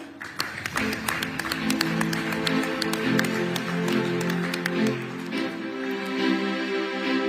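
Audience applause at the Amazing Indian award ceremony 2023, steady clapping from a crowd under a sustained musical tone, moderate in level and continuous throughout.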